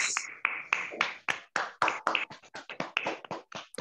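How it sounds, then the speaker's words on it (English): Scattered applause from a small audience at an online Toastmasters club meeting, a few hands clapping in uneven, distinct claps, fairly faint and unaccompanied by talk. "Let's give Toastmaster Manikantan a good round of applause."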